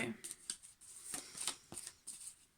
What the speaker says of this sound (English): just going to give these beautiful cards a good shuffle